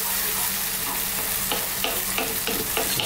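Prawn curry with pureed fresh tomatoes being stirred in a pan, a steady loud sizzle broken by several scraping stirs in a loose rhythm, close up with no talking.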